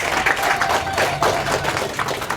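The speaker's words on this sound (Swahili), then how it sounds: "Naomba tupige makofi." Applause from an audience at the opening ceremony of a Mkombozi Bank branch in Geita, steady clapping from many hands filling the room without a break.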